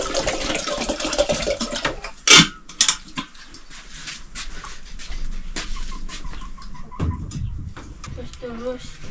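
A broiler chicken covered under a woven doko basket in a village clucks softly in short bursts beneath ongoing talk, with a couple of sharp knocks midway.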